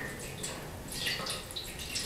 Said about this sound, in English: And then I have another tray here, which I also fill with water.